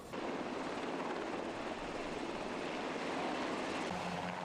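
A KAI Surion military utility helicopter, a Korean Army transport, roars steadily with a loud, continuous engine and rotor drone that holds close and unbroken throughout.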